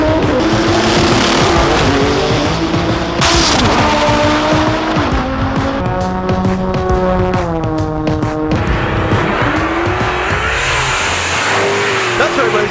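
Race cars at Texas Motor Speedway's TX2K22 drag racing event, engines revving and accelerating loudly with shifting pitch and tire squeal, a voice talking over the noise.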